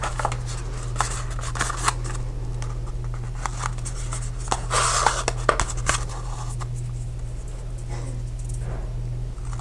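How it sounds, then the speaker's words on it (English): Scissors snip lengths of Halloween Nights Baker's Twine at a craft table, giving a run of short, close clicks and snips over a steady low hum, with a denser cluster of cutting in the middle. "I'm going to use the Halloween Nights Baker's Twine, and I'm just going to cut off enough"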